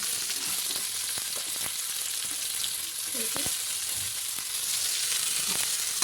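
Eggplant and tomato fry in hot oil in a pan, making a steady loud sizzle throughout with faint scattered clicks of stirring, close up, with no speech.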